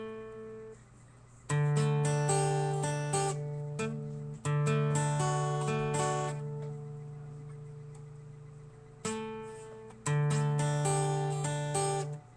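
A song part is played slowly on guitar: sustained picked notes and chords ring out in separate phrases with pauses between them, clear and close, with no talk.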